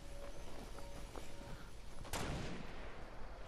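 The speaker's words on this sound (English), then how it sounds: "Someone is shooting." Distant gunfire in Fortnite, a few faint irregular shots and one sharper crack against a steady noisy background, no voices.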